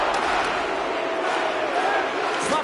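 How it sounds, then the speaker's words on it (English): Continuous broadband roar of an arena crowd in the NHL 25 hockey video game, booing and reacting at steady loudness throughout with no breaks. "he's hearing it from this crowd"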